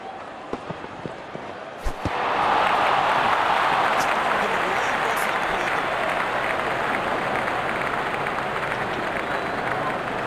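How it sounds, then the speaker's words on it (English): A crowd cheers and applauds in a multiplayer cricket video game match. The cheering swells up after a sharp knock and stays as a steady, dense roar. "The crowd is enjoying every bit of this action."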